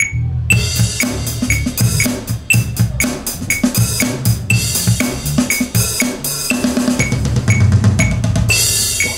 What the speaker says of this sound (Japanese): これをですね、もう慣れてる方はもう指ドラムでやっちゃってもいいですね。